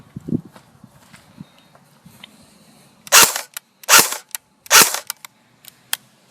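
Airsoft Cybergun Beta Spetsnaz CYMA AK rifle, battery-powered, firing three loud short bursts on full auto with a slowish cyclic rate, separated by quiet pauses with faint handling clicks.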